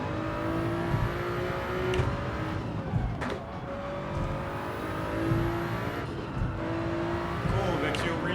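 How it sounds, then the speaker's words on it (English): A turbocharged race car in Gran Turismo 7 drives hard with steady engine drone, its turbo whistling in rising and falling whines along with shifts and brief tire noise, with a voice talking over it. "Cool that you really hear the turbo whizzing"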